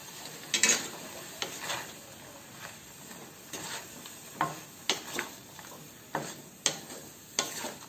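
A spoon stirs bottle gourd and soybean curry, made without garlic or onion, in a pan, giving faint, irregular scraping clicks and taps against the metal over a soft, steady background hiss.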